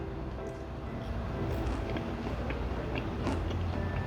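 Fried cream shrimp with lemon sauce is bitten and chewed close to the mic, giving soft crunching and mouth sounds over a steady background hiss.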